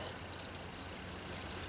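Distilled water is poured into the cells of an old forklift battery pack, a steady, continuous rushing stream, fairly close and even throughout, with no one talking.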